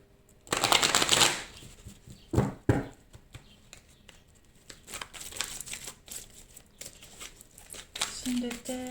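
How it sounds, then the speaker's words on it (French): Oracle cards dropped and shuffled in quick papery riffles and slaps, a dense burst early on followed by scattered flicks and rustles, close and fairly loud, with soft talk underneath. "je fais tomber toutes mes cartes"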